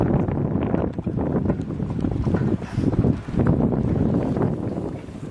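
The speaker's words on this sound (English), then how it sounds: "I'm sitting on the boat, so there's a bit of background noise" Steady background noise aboard a boat, a loud, continuous rumble and wind-buffeted wash with no pauses and no voices over it.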